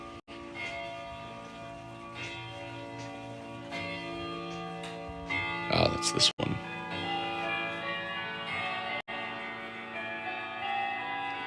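Many antique clocks chime and ring together inside a clock shop during a chiming event, layered bell tones and ticking sustained throughout, with a brief spoken remark near the start.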